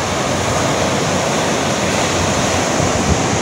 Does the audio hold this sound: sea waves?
yes